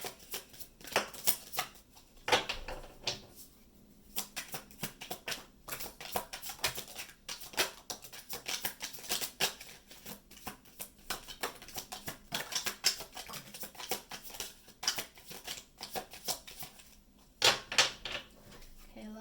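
Tarot cards are shuffled over and over in crisp, papery riffling bursts, with brief pauses between rounds and soft handling noises.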